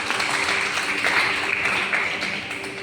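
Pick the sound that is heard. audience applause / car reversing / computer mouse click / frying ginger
audience applause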